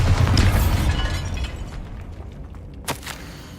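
Bombarda spell explosion in the video game Hogwarts Legacy: a loud burst at the start that decays over about a second and a half into rumbling debris, with a sharp crack near the end.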